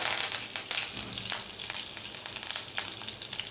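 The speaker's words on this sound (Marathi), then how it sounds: "नंतर मोहरी घालणार आहोत चिमूटभर हिंग घालणार आहोत कढीपत्त्याची पानं घालणार आहोत" Mustard seeds, asafoetida and curry leaves crackle and sizzle in hot oil for a Malvani-style jackfruit bhaji, with steady close frying hiss and sharp pops scattered throughout.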